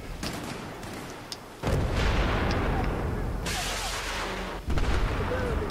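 Gunfire in Battlefield 4 Rush mode: loud booming shots and bursts of firing that jump in intensity partway through, alongside rumbling battle noise and a player's voice.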